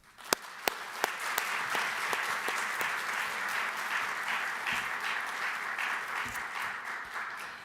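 Audience applause welcoming speaker Rachael Collins at an evening talk, a steady sustained clapping from a crowd with a few sharp, close claps standing out at the start, continuing without voices throughout.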